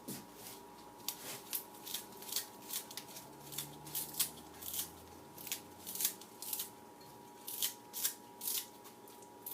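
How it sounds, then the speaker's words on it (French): Parsley chopped on a board for a stuffed Christmas turkey, a steady run of crisp, rapid cuts, mostly evenly spaced and fairly close, with no talking. "Je vais couper les persils en petits morceaux."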